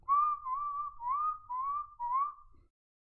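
Five clear, wavering whistle tones sound in quick succession at the end of a Football Manager 2020 match, moderately loud with no voices, then stop.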